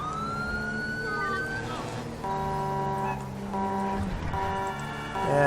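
A custom modded police siren from GTA V's LSPDFR mod wails with sweeping, cycling tones for several seconds, loud and continuous, with a steady layered electronic tone underneath.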